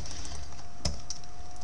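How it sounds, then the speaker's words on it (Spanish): Someone types a spreadsheet formula on a computer keyboard, a few soft key clicks with one sharper keystroke in the middle, close and quiet over a steady background hum. "ahora que ya sabemos arrastrar fórmulas con el mouse, vamos a tratar de entender cómo manejar esto con el teclado."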